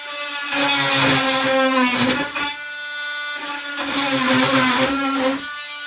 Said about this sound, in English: a good tool to use is the oscillating saw, because you can basically just cut where the straps are